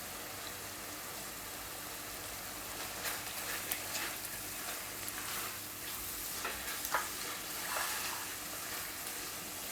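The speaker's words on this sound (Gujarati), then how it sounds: "થોડાક આપણે લીલા દાણા નાખીશું." Green peas frying in a pan for a Gujarati paneer toofani dish, giving a soft, steady sizzle with light stirring scrapes and ticks, fairly faint and close, with no voices.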